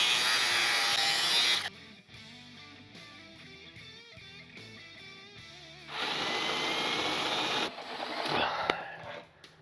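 Loud, harsh cutting noise as a drill bit held in a vise is cut down, then a quieter stretch of mechanical rattling, followed by another burst of grinding with sharp metallic clicks near the end.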